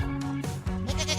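A goat bleats in a short, wavering call, close and clear with no other sounds around it.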